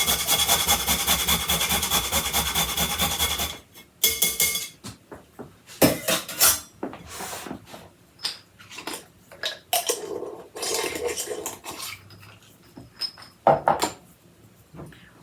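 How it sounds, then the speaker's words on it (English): A whole nutmeg is scraped across a microplane grater in a home kitchen while baking pumpkin cookies, giving short irregular rasping strokes close up, mixed with light clinks of kitchenware and a steady hiss early on. "So we'll grate some of this nutmeg in here."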